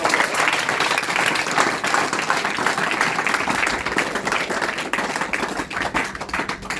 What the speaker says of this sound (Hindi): तो एक बार इस प्रकृति के लिए शानदार तालियां बजाएंगे।